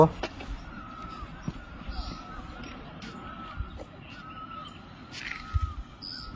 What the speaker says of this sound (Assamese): শুনিছেনে চৰাইৰ মাত